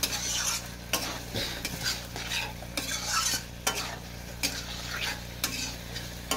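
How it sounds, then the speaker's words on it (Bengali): Raw jackfruit and prawns sautéing in oil in a pan, with a steady sizzle under repeated scraping stirs of a spatula, close and fairly loud, no talking. "হালকা হালকা করে আমি কষাতে থাকবো"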